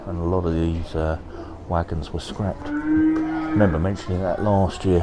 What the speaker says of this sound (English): You can hear the cow making a noise behind me.